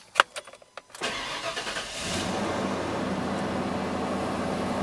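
A 1994 Ford Bronco with a 5.8L engine cranks with a few quick starter pulses, then fires up and settles into a steady, moderately loud idle, with no one speaking.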